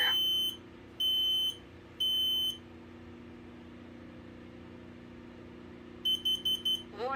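A hardwired smoke alarm running on a 9-volt battery is tested, giving three loud, shrill beeps about a second apart, then a pause and a quicker burst of four short beeps, with no talking.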